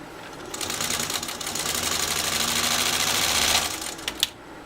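A 1952 Singer 301 sewing machine stitches through two layers of commercial grade vinyl with a loud, even, rapid whirring run. The motor slows and stops with a few final clicks.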